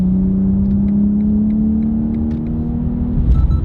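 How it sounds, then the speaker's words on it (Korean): A BMW 840i Gran Coupe in sport mode revs hard, its exhaust holding a loud, close, steady drone that climbs slightly in pitch before a rougher burst at the end, with no talk over it. "물론 굉장히 매력적인 배기음이 나지만 액티브 사운드가 첨가가 되어 있어요."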